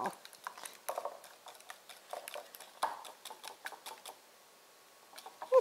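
A whisk beats quickly inside a bowl, making a fast, irregular patter of light metallic taps close by that fades out, then returns briefly with a final clink.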